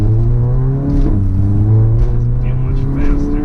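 A car with a tuned DSG gearbox and high-torque tune under acceleration, a loud, close engine drone with shifting harmonics and brief changes in pitch as it moves through gears.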